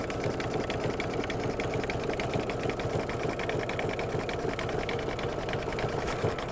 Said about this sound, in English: It's doing a triple stitch, so this will be a nice secure seam